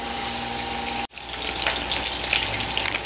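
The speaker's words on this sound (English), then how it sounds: "now my oil is hot, so I'm going to pan fry my pork chops" Pork chops fry in hot oil in a pan, giving a loud, steady sizzle with a brief dropout partway through before the crackling resumes.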